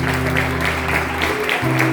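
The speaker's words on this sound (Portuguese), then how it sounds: "Você pode aplaudir o Senhor?" Church congregation clapping together during a worship service, a rhythmic, regular beat of applause over sustained musical tones, moderately loud and steady.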